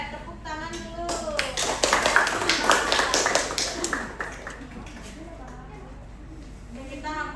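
Classroom applause from a group of students, a burst of clapping that swells for a few seconds amid children's voices and chatter, then fades back into talk.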